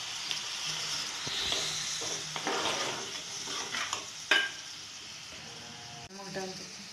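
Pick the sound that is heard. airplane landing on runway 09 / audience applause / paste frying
paste frying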